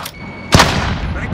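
A grenade blast from the game Call of Duty Warzone on Rebirth Island, one sharp loud explosive crack followed by a rumbling tail amid ongoing battle noise.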